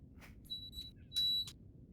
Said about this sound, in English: That's just my dishwasher finishing.